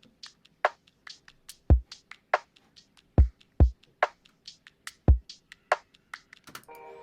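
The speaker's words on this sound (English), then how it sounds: "So the drums on their own sound like this" Sparse lo-fi drum loop for the beat, with soft kick thumps and light clicky hits in a loose repeating pattern, quiet and dry.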